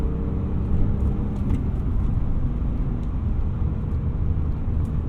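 Steady low drivetrain rumble and chatter from a BMW E36 fitted with a UUC lightweight flywheel, a continuous near drone with faint rattling texture throughout, no voices.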